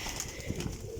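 Champion racing pigeons in a loft coo continuously, a dense low murmur of overlapping calls with bright background chatter, close and steady.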